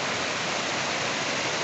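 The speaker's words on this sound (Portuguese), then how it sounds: "Estou aqui do lado da cachoeira do Rio Lavrinha, aqui ao lado da Vila Bandeirante" A waterfall on the Lavrinhas river near Vila Bandeirante in Itaberá, São Paulo, a steady loud broadband rush of falling water filling the whole moment, with no voices.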